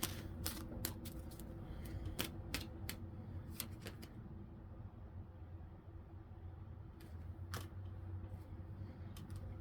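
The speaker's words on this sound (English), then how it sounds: "it's going to take me a minute to shuffle" Crisp, irregular tarot card flicks and riffles snap close up over a low, steady background hum, with a quiet stretch in the middle.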